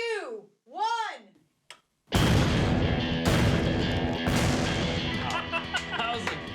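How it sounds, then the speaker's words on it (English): Six sticks of dynamite blast a tree apart in a sudden, very loud boom with a long rumbling, crackling tail of falling debris. It comes right after a couple of shouted warning calls. "That was a good explosion."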